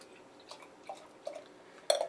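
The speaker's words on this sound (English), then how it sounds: "Let's get this into the glass." Lagunitas Sucks Holiday Leftover Ale poured into a glass: quiet gurgling and splashing builds in a few soft bursts, ending with a brighter, louder clink and pour, with no talking.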